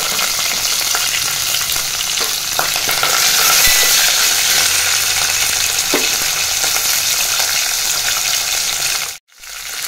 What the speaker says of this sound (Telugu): ఆయిల్ వేడయ్యాక దాంట్లోకి జీలకర్ర, ఆవాలు, ఇంకా కట్ చేసి పెట్టుకున్న మిర్చి వేసుకోవాలి